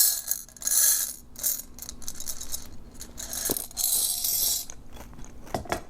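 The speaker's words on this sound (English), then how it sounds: "Find your candy of choice. Oh, just pour that in there." Hard candy poured into a mug, a rattling cascade of small clattering pieces with bursts and scattered clinks over several seconds, close and fairly loud, no speech.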